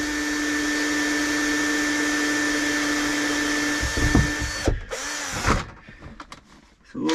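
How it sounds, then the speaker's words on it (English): A loud, close power drill runs steadily for several seconds drilling into a boat hull, then bogs and stutters through bursts before cutting out, followed by scraping handling noises. "It's always unnerving screwing into the, or drilling into the hull."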